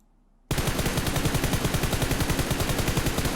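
Sustained rapid automatic gunfire in the video game PUBG Mobile starts abruptly after a brief silence. Loud, close, evenly pulsing rounds continue to the end without a break.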